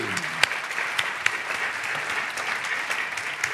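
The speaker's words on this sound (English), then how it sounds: "So one more round of applause, I think." Audience applause fills a university chancellor installation ceremony, a steady wash of many hands clapping in a large hall with a few sharper claps standing out, no talking over it.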